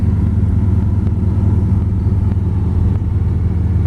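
A 1956 Chevy Bel Air two-door hardtop resto-mod idles with the air conditioning switched on, giving a steady, loud, close low rumble with a slight even pulse and no talking.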